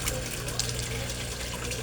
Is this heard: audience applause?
no